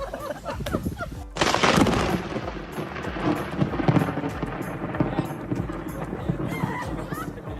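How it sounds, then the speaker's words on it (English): A sudden loud crack of a lightning strike, then thunder rolls and rumbles on for several seconds, with a voice speaking beneath the noise. "a lightning hit right after he said 2020 has not been the best year"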